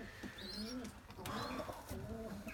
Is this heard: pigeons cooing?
yes